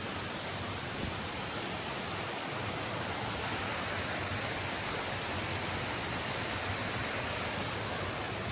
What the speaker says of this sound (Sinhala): අර ඇල්ල තමයි ඇලි 7 අවසාන දියඇල්ල 7 වෙනි එක.